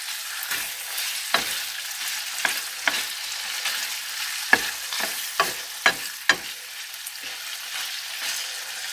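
Chicken frying in butter in a pan in a camper van kitchen: a loud, steady sizzle throughout, broken by several sharp clinks and scrapes of a spoon stirring the pieces.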